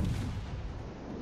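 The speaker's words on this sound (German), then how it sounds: "da kommt leider noch die nächste Salve hinterher" A battleship's gun salvo in the naval video game World of Warships lands as a brief, low, rumbling boom that fades quickly.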